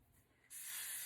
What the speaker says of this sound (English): we're just spraying this around our edges